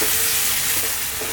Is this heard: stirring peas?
yes